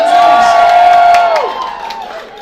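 A crowd cheers and whoops at a burlesque festival in Athlone in the Irish Midlands. One long, loud shouted tone is held for over a second and then drops away, over a bed of crowd noise.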